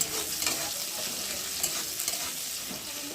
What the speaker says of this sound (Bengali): পেঁয়াজটা আমি লাল লাল করে ভেজে নিয়েছি